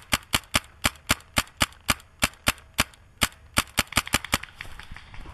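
Rapid string of sharp airsoft gun shots in a wooded forest during a game, about twenty crisp reports in a steady rhythm that quickens into a faster burst near the end, close and loud with no talking.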